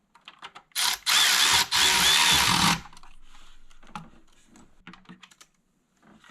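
A ratchet tightens bolts into the plastic oil filter housing of a 3.6 L Dodge Caravan or Chrysler Town & Country, with two loud, close bursts of rapid clicking followed by scattered quieter clicks and handling noises.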